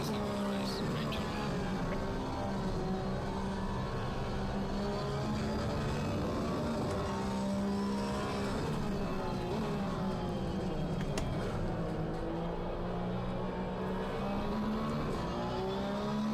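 A racing car engine in the video game Gran Turismo 7 drones steadily throughout, its pitch rising and falling with shifts and acceleration, loud and continuous with no pauses.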